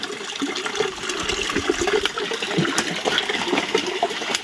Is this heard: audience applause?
no